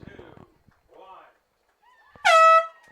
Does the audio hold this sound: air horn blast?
yes